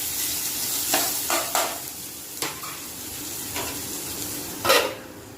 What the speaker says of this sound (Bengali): একটু পেঁয়াজ দেব পেঁয়াজ রসুন আদা লঙ্কা ভেজে দিচ্ছি